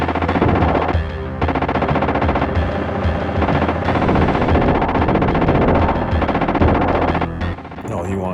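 Rapid video game gunfire from a light gun game, shooting down HK hunter killers flying in the background, with dense bursts of shots over a loud, busy soundtrack that runs nearly the whole time.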